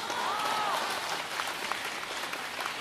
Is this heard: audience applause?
yes